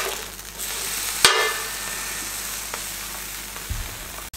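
Cheese sandwich toasting in ghee on a street-food griddle, a steady close sizzle and frying hiss with a sharp clatter near the start and a low thump toward the end.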